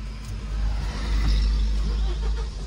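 Diesel truck engine running steadily and close by, a low rumble with a slight rise as it revs, on a chemical-load run from Bangalore to Kundapur; no voices.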